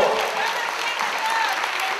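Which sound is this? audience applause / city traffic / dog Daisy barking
audience applause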